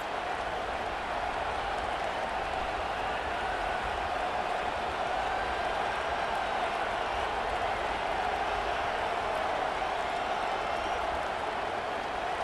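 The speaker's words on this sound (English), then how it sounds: "this crowd is turning it up a notch" A large football stadium crowd at an Alabama at Florida game roars with steady, dense cheering that holds throughout, loud and continuous with no clear breaks.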